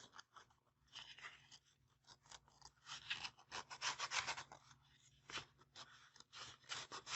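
Sandpaper rubs the edges of laser-cut wood puzzle pieces, giving soft rasping strokes that come in irregular bursts, close and fairly quiet.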